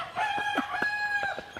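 A rooster crows in a short, strained call, moderately distant with faint background noise.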